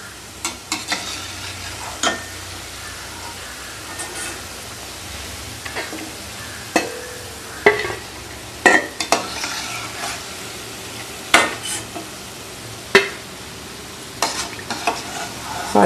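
Green gram gulab jamun balls fry in hot oil with a steady, loud sizzle, broken by sharp scraping and clinking knocks as they are stirred in the pan, with no voices.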